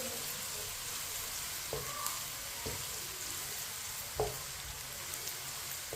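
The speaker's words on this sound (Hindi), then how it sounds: "एक बारीक कटा हुआ प्याज, प्याज को मिक्स कर लेंगे।" Finely chopped onion sizzles steadily in hot oil over a medium flame while a spoon stirs it, giving a constant frying hiss broken by a few soft scraping knocks, with no voices.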